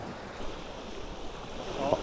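Wind-driven waves on a lake, a steady rushing wash of water with gusting wind noise on the microphone, moderately faint and continuous.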